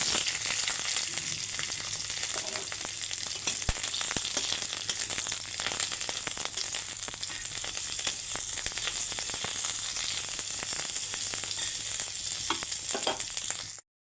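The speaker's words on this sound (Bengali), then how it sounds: "এখন কড়াইয়ে আবার তেল দিয়ে দিয়েছি আর ক্যাপসিকামগুলো এখন ভেজে নিচ্ছি" Capsicum pieces frying in oil in a kadai for begun posto, a bright, steady, close sizzle with occasional stirring clicks, ending abruptly.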